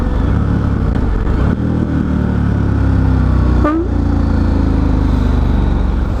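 Adventure motorcycle on Heidenau K60 Scout tires slowing under braking, a loud, steady engine and road drone with a brief falling whine midway, no voices.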